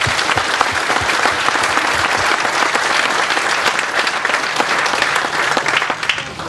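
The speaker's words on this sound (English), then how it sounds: "If you please give yourselves a round of applause." An audience at a Veterans Day event in North Charleston applauds itself in a loud, dense, sustained round of clapping that runs unbroken from start to finish, with no voices over it.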